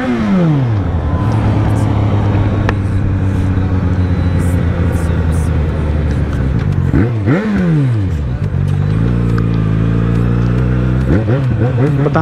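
A Yamaha XJ6 motorcycle accelerates hard in fourth gear, its engine note climbing loudly and close, dipping briefly around a throttle change before winding up again, with wind rush underneath.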